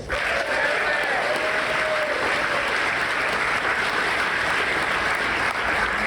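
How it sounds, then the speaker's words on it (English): Before a world premiere screening at the 2024 Revelation Film Festival in Western Australia, a festival crowd applauds in a loud, continuous roar of dense clapping that stays steady for the full six seconds. "So how about a round of applause?"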